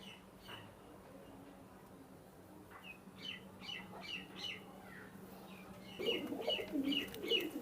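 Indian Ablook Kalanka high-flying pigeons coo and squawk in short repeated calls, close but quiet, with soft rustling and a faint low hum beneath.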